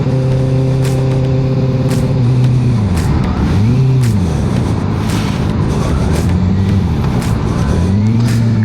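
A motorcycle engine revving for power wheelies while out riding: loud, close engine drone that rises and falls in pitch over several repeated throttle surges, no speech.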